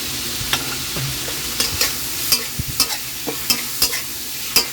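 Mixed vegetables and shrimp being stir-fried in a wok with chili paste oil, sauce and oyster sauce, a spatula scraping and clanking in quick, irregular strokes over a steady, close sizzle, with no talking.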